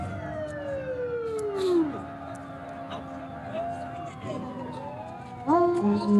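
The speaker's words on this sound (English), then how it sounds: "firemen and the emergency squad people get their chance to blow off their sirens" Fire engine and emergency squad sirens sounding at a 1994 St. Patrick's Day parade, several overlapping wailing and whooping sirens rising and falling, with people talking over them.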